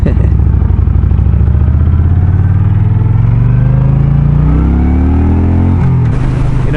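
A motorcycle engine revs and accelerates steadily up close, its rising drone climbing in pitch, then dropping as it shifts, with no voices.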